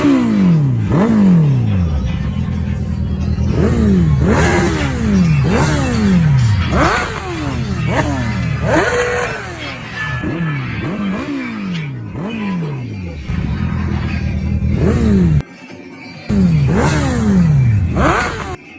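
Two motorcycles rev hard again and again in a circus rope-pull game, their engines swooping up and down in close, overlapping bursts, with a brief cut near the end.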